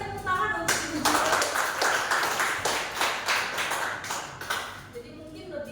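A room of teacher trainees claps for a female teacher, a burst of quick hand claps that starts after a brief voice, keeps up for several seconds and then thins out as talking returns.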